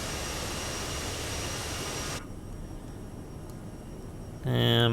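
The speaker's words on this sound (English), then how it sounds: "Sorry about the engine noise." A CRJ-700 jet engine roars during climb in Microsoft Flight Simulator, a loud steady broadband whine that drops suddenly partway through to a quieter hum before a short tonal beep sounds at the end.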